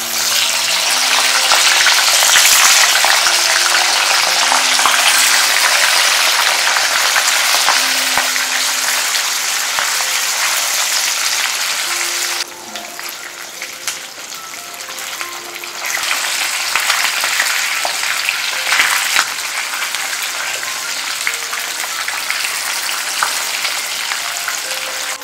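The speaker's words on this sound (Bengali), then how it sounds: "এরপর মাছগুলো ভেজে নেব।" Katla fish fries in a quarter cup of hot mustard oil, giving a loud, dense, close-up sizzle that dips briefly midway and then resumes at full strength.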